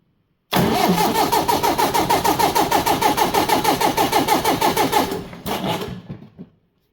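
A Massey 780 combine engine, just bled of air in its fuel system, is cranked hard by the starter in a fast, even chugging rhythm. The cranking stops, one short burst follows, and it dies away without running.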